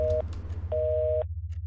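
Busy signal from an unreachable phone call in a video game: two steady electronic tone beeps, the second longer, over a low continuous hum.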